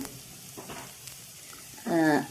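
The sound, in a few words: fennel and cumin sizzling in oil, stirred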